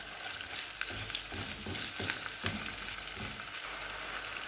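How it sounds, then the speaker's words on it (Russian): Chicken breast frying in a pan for a vegetable pilaf, a soft continuous sizzle with small crackles and occasional stirring clatter, fairly quiet and steady without voices. "Пока будет жариться грудка, помою рис."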